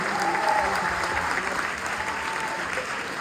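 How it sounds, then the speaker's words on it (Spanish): A live audience applauds for Felipe after a musical introduction, sustained loud clapping and crowd noise that carries evenly from start to finish. "¡Aplausos para Felipe!"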